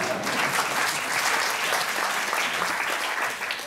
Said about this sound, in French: la, salle a le droit de vous applaudir pour ce que vous faites